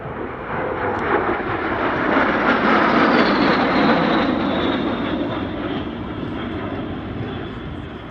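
An L-39 ex-military jet trainer flying a display at the Meaux airshow, its engine rising to a loud, sustained roar as it passes, then slowly fading while a thin whine lingers.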